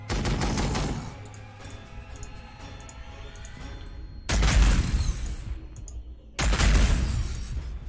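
Bolter gunfire in the Warhammer 40k Sanctus Reach video game, with rapid heavy bursts at the start, then two more loud booming volleys later, close and forceful over a rumbling background.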